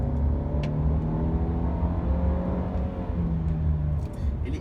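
A Mercedes C180 car accelerating gently, its engine note rising smoothly and steadily as a mid-pitched hum with a faint whir, heard from inside the cabin.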